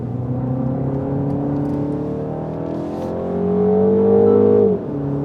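A car engine revs up on a race track during a handling test, a loud close whine climbing steadily in pitch as it accelerates, then dropping abruptly as the throttle lifts.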